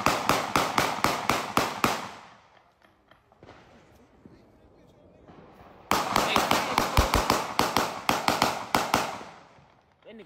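Rapid bursts of loud gunfire crack out in quick volleys, a dense string of sharp reports that pauses for a few seconds of quieter background and then resumes in another fast series, with shouting voices in between.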